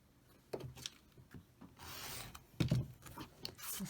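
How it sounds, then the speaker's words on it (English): A fabric quilt square is cut out along marked lines, giving faint, soft scraping and rasping strokes, quiet and close, with one longer hissing cut in the middle and no talk. "I'm going to cut it out and make my square"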